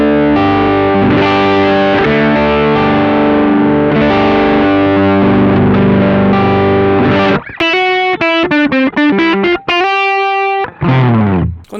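Electric guitar with a humbucker pickup driven through a BOSS OD-3 overdrive pedal: thick, crunchy chords ring out loud and sustained, then give way to choppy, rhythmic stabs and single notes before a final bend.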